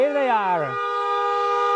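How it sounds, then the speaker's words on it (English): A loud horn blast with a falling pitch, then a steady sustained honk ringing on close by. "for hours we've been hearing the sound of car honks"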